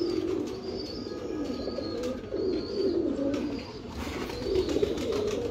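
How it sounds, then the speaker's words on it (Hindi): A large golden seven star pigeon coos in repeated soft, low rolling calls close by, with faint outdoor background noise and no talking. "ये जी माशाल्लाह सैफुल्लाह खान साहब का मेन बड़ा 7 स्टार कबूतर है"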